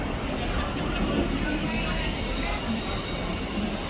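A class 60 diesel locomotive at Cardiff Central station rumbles in a steady, loud, broadband drone, with wagons rolling past and no pauses through the whole stretch.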